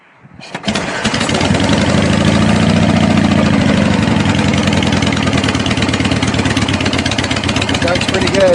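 A Harley Shovelhead motorcycle engine kick-started, catching after a brief cough and settling into a loud, lumpy, steady idle right beside the listener, with a voice talking over it.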